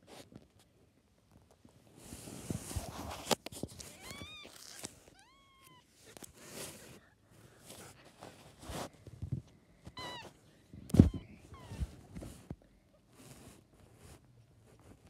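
Several young kittens, about four weeks old, meow in a string of short high cries spread through a quiet indoor scene, with soft rustling and handling noises between them and one sharp knock near the end.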